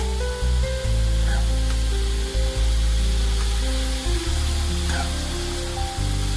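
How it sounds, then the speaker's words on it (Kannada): Chopped onions sizzle loudly in hot oil in a pan for a bread omelette, a dense continuous frying hiss up close, broken by a few short dips as they are stirred, with no voices. "ಈಗ ಎಣ್ಣೆ ಕಾದಿದೆ ಇದಕ್ಕೆ ಈರುಳ್ಳಿನ ಆ್ಯಡ್ ಮಾಡ್ಕೋಬೇಕು ಈರುಳ್ಳಿ ಎಣ್ಣೆಯಲ್ಲಿ ಚೆನ್ನಾಗಿ ಫ್ರೈ ಆಗಲಿ"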